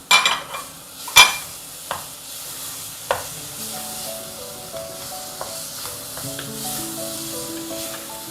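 Tomatoes stirred into brinjal bharta in a pan, opening with a few sharp clatters and scrapes of a utensil and then a soft ongoing sizzle, with faint music playing underneath.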